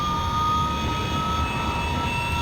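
McDonnell F2H-2 Banshee jet in a flight simulator with its first engine running during startup, a steady loud turbine roar with a constant high whine, unbroken and without talk.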